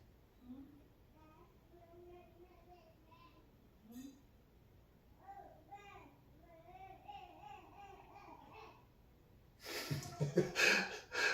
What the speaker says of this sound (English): I don't know if you can hear the baby in the next room. She's doing her baby talk.